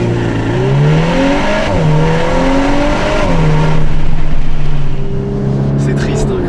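Volkswagen Golf 8 R with its 320 hp engine revving and pulling through rising and falling tones, loud and close inside the car, with a voice speaking over it.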